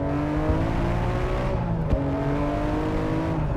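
A Nissan Skyline R34 GT-R engine pulls hard and steady as the car accelerates past a camper on the road, a loud, sustained drone that holds its pitch with a brief shift midway and no talking over it.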